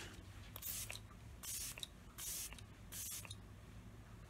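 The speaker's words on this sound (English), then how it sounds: "I'm going to go in with the Tarte Stay Spray today." Tarte Stay Spray setting spray misted from a pump bottle in several short, close hissing bursts of roughly half a second each, with brief quiet gaps between them.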